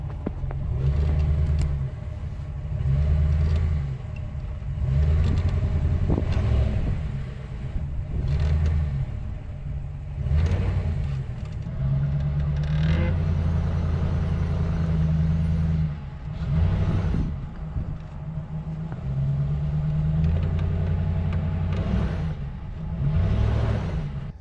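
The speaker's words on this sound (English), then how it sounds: "Is that wheel still spinning?" A RAM 1500 4x4 pickup with an open differential sits stuck in snow, its engine droning and surging in repeated low pulses as a wheel spins, steady and close throughout with no talk.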